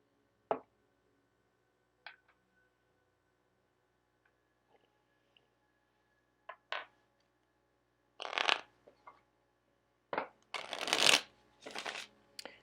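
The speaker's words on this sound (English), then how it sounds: "I'm going to pull some tarot cards" A Crowley Thoth tarot deck being handled and shuffled, with soft isolated card flicks early on building into several louder riffling bursts near the end, close and otherwise quiet.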